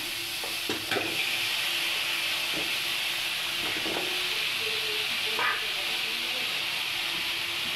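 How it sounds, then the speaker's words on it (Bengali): Diced potatoes frying in oil in a kadai: a steady, close hiss of sizzling oil runs throughout, broken by a few scraping stirs of a utensil, without speech. "ওই কড়াইতে আমি আলুগুলো তুলে দেবো, আলুগুলো ভেজে নেবো।"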